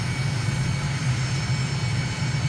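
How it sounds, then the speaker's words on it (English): A MiG aircraft descends on approach with landing gear and flaps lowered during a reconnaissance flight over Venezuela, its engine a steady, loud droning roar heard from inside. "Letting down, dropping the gear down, flaps coming down."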